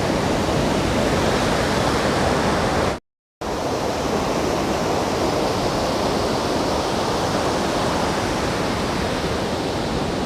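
Water from a stream pours steadily down a waterfall at Lover's Point in Daringbadi, a loud, continuous broadband rush heard up close with no voices, briefly cut to silence once before resuming unchanged.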